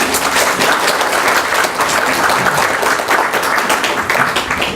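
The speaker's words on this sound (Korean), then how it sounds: "자, 박수로 맞아주시고." A seated audience gives steady, loud applause to welcome speakers at a Buddhist dharma talk and dialogue, dense clapping sustained throughout with no talk over it.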